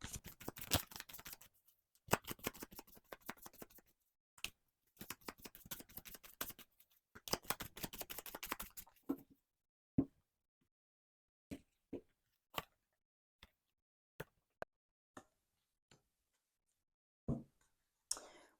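Tarot cards shuffled in a long riffling series of dense bursts, followed by single sharp card snaps spaced a second or two apart, close and moderately loud with no voices.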